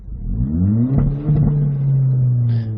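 A Hyundai Veloster engine revs up and down loudly through a sporty variable exhaust, with rising and falling pitch and a few crackling pops near the end.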